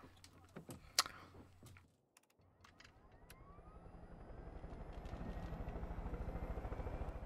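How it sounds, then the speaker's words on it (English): A helicopter in the video game Far Cry 5 starts up after a few sharp clicks and clunks, its whine rising steadily into a loud, close, pulsing rotor chop that keeps building to the end. "Let's just check the helicopter over there."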